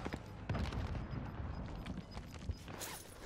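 Sniper gunfire in the video game Warzone, a fairly faint scatter of sharp shots and booms over several seconds, mixed with other game noise.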